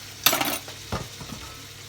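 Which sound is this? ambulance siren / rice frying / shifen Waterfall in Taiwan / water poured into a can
rice frying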